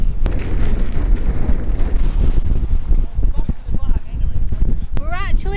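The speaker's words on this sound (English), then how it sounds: "We're actually at the Kerrang, but it's really windy." Strong wind on the Isle of Skye buffets the microphone with loud, low, gusty rumbles that surge and fade throughout. A person's voice briefly cuts through near the end.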